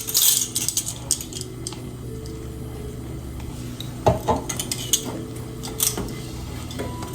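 Light metallic clinks and taps from a spoon against a bowl while vanilla extract goes into homemade eggnog, scattered irregular strikes close by, with a few sharper rings near the middle.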